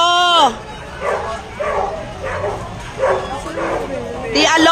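A dog barks repeatedly in a rhythmic series of yelps during a house fire in Taguig City, loud and close, with voices shouting around it.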